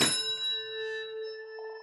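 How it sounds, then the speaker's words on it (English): Several handbells ring together as one chord. The sharp strike fades into a long, clear, sustained ring with no voices. "Should we make a Chinese chord with our bells?"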